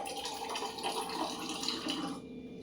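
Water pours in a steady, soft stream into a small vessel of fennel seeds set to soak, the flow stopping abruptly near the end.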